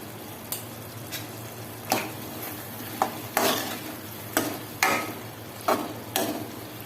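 Mushroom curry with coriander powder is stirred in a pan in a series of about nine sharp spoon scrapes at an irregular, fairly even pace, over a soft background simmer. No one talks.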